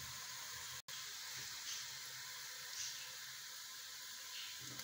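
Chopped onions, garlic and ginger fry in a pan for a Mughlai chicken, giving a faint, steady hiss and sizzle with a brief dropout near the start.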